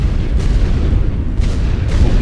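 Mortar explosions in a war video game, heavy low booms rumbling continuously at high volume, with a few brighter bursts breaking through around the half-second, one-and-a-half and two-second marks.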